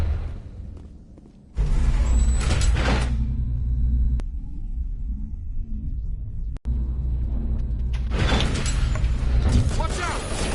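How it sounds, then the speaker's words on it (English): An elevator runs in Mass Effect Legendary Edition, a low mechanical rumble and hum with swells of door-like sliding noise at the start and end and a sharp click partway through. "Oh wait, no, the elevator's right here."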